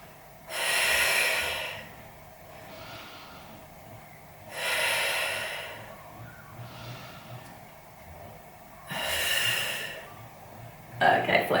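Slow Pilates breaths in and out, three long audible exhalations spaced a few seconds apart with softer inhalations between. A close, quiet breathy hiss sounds in a steady rhythm.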